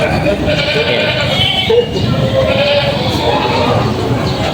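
Goats bleat repeatedly amid a noisy, crowded outdoor goat market, with people talking nearby throughout.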